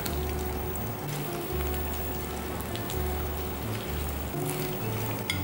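Food deep frying in oil gives a steady, loud crackling fizz like rain on a surface, alongside a low intermittent hum in the background.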